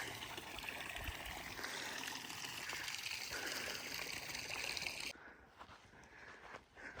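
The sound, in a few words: water trickling from an overfilling well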